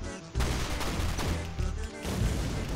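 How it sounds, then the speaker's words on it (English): A tank fires in Shellshock Live, a sudden booming shot followed by dense rumbling blasts that cut out briefly and resume, loud and close. "I'm gonna shoot the guys on the other side of you"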